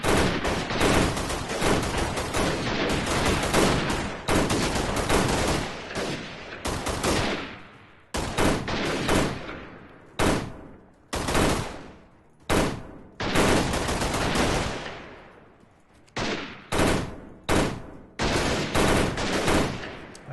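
Video game gunfire with bullets striking a fence, loud rapid automatic bursts in repeated volleys separated by short silent gaps, alone without talk.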